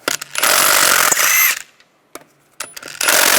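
Power tool whirring in loud bursts with a ratcheting socket spinning lug bolts off the front wheel of a 2006-2009 Volkswagen Rabbit, two sustained runs followed by short clicks and another burst.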